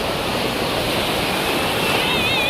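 Broad steady roar of sea waves on Diveagar beach in Konkan, a continuous wash of surf close by with a faint high whistle-like tone entering near the end.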